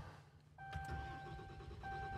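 Ram 5500 Custom Hauler truck engine cranking and catching via push-button start, a short starter burst settling into a steady low idle with a faint electronic chime tone, close and moderately quiet.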